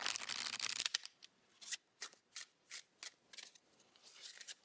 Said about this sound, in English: They shuffle nice.